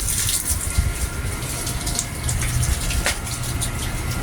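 Garden plants watered with gushing water, a loud continuous hiss and splash of flowing water close by without letup.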